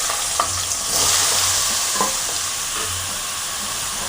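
Snake gourd pieces fry in a pan after green chillies, producing a loud, steady sizzle close up with a few soft utensil taps and stirring scrapes, and no voices.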